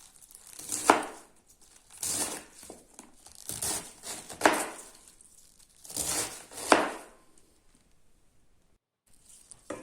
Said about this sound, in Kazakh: капустамызды жуып тазалап алып, төрт бұрышты етіп турап алатын боламыз